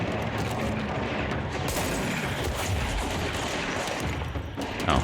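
Continuous rapid gunfire and explosions from the video game Control fill the scene, loud dense bursts of shots and booms layered together with almost no pause.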